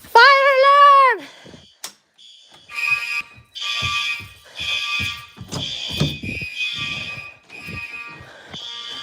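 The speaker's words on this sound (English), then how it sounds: "I do want this alarm to sound," A loud electronic fire alarm wails briefly at the start, then people talk over a repeating tonal beeping that pulses in the background.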